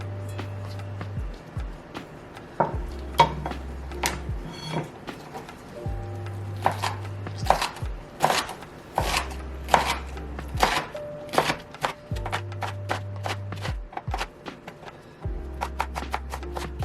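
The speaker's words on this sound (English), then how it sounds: "Next, slice your kimchi." A knife slicing kimchi on a cutting board, rapid clusters of crisp chops separated by short pauses, close and fairly loud, with a low hum underneath.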